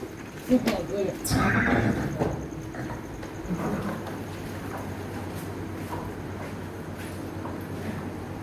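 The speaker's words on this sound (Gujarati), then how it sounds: "બે ઘોડી એકદમ નેરવી છે, બે એકદમ ફિટનેસ વાળી છે ઘોડી" Mares in a stable give loud whinnying neighs early on, followed by faint hoof clatter and stable noise, with someone talking throughout.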